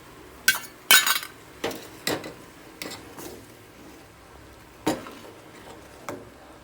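Spoon beating and stirring a mixture into a pot of dry ginger (sukku) milk porridge, giving several sharp clinks and scrapes against the pot at irregular intervals, close and fairly loud with no talking.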